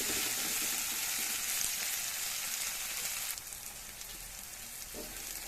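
Bitter gourd frying in a brass pan, a steady close sizzle and crackle of hot oil that keeps going without pause and eases slightly partway through.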